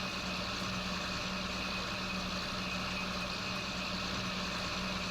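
Tractor engine in Farming Simulator 19, a constant droning hum that holds at a steady, loud level throughout the few seconds with no changes.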